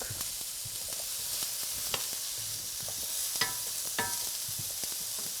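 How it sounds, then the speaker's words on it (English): Sweet potatoes fry in a skillet, giving a quiet, continuous sizzle broken by occasional light clicks and scrapes of stirring. "because the sweet potatoes take a while to cook, this has been cooking for about 5 minutes in the skillet"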